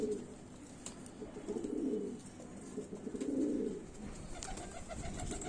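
A pigeon coos softly in two low, rolling phrases, nearby but quiet, over a faint background hum.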